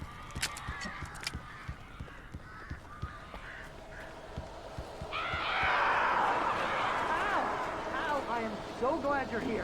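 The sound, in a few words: birds flapping and crying in video game Alan Wake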